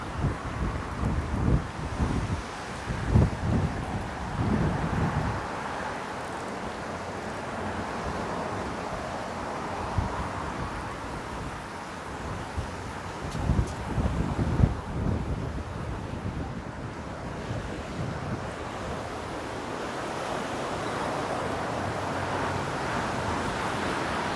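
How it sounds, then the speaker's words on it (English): Wind buffets the microphone on a Toronto street in a steady low roar, with louder gusts thumping early on and again midway. "Oh, that's windy."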